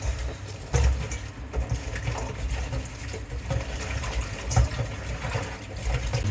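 Tap water gushes steadily from a pipe, a continuous splashing stream close by with small surges in volume.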